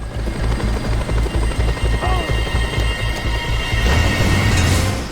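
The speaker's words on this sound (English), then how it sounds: "And we already have another helicopter." Helicopter in the Just Cause 2 video game, a steady low rotor thump pulsing throughout with dense game action and mechanical noise layered over it, loud and close.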